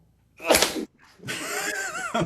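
A single sharp sneeze bursts out close to the mic at the start of a podcast recording, followed after a brief pause by a voice speaking.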